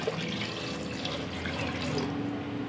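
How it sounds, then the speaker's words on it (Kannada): Water pouring steadily into a pressure cooker holding mutton for biryani, a continuous close splashing gush with no break. "ಇದು ನೀರು ಹಾಕ್ತಾಯಿದ್ದೀನಿ."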